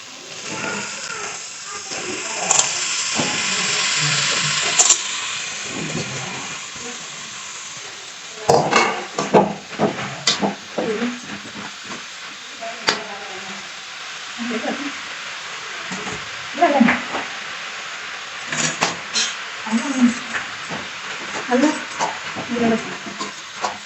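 Mushrooms and tomatoes cook in a pan with a continuous hiss of frying, broken by repeated clatters and scrapes of stirring, while a voice speaks at times.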